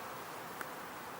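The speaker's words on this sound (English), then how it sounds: "it's still full of bees" Bees buzzing inside a hive during an inspection, a soft continuous drone at low level with a faint click partway through.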